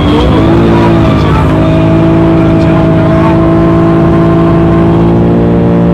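A BMW M3 E46 drifting through a long corner, its engine holding a loud, steady high-rev drone with strong harmonics that hold level throughout, close and continuous with no talk.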